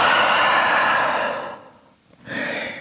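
A deep breath drawn and released while holding a downward dog pose in a vinyasa yoga session: a long, loud breathy exhale fading out, a brief pause, then a shorter intake of breath.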